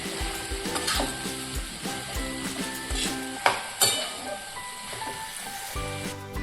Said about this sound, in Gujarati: અને હવે બરાબર હલાવી લઈશું।